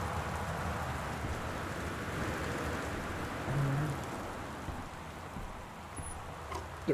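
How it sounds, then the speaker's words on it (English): Steady rain falls throughout in the video game Gone Home, a dense even hiss with a soft low rumble beneath and no speech. "The rain is something."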